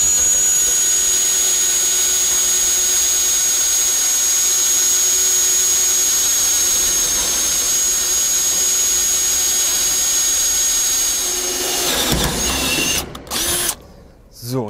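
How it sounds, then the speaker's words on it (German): A power drill whines loudly and steadily for about twelve seconds while drilling through a garage lock cylinder, then falters and stops with a few rough bursts and clatter. "So, und jetzt haben wir komplett durchgebohrt."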